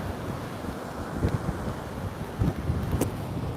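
Steady, rough wind buffets the microphone on a beach in winter, a constant low roar with gusty swells and no voices.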